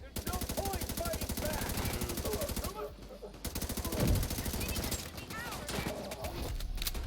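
Gunfire in the video game Division 2 rattles off in rapid, sustained automatic bursts, loud and continuous, with short breaks. Game voices and talk sit underneath.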